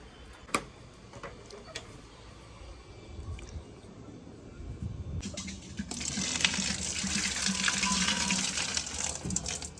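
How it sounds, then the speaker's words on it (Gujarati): Drinking water runs from a tap, starting as scattered drips and ticks, then building to a steady, fuller splashing flow as it fills, close and moderately loud with no talking. "પાણી ભરવાનું છે અમારે, પીવાનું પાણી આવે અહીંયાથી."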